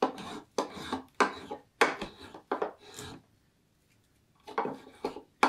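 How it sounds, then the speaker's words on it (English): A spokeshave cuts green wood while carving a heart-shaped bowl, making repeated rasping scraping strokes in close bursts, with a short pause partway through before more strokes resume. "Shavings are always plugging your shave up. It's hard to cut."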